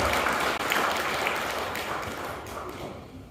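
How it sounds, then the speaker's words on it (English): Applause from the audience at a healthy housing awards ceremony, a dense, steady clapping that fills the whole stretch and slowly thins toward the end. "a big round of applause for Longhurst Group Independent Living"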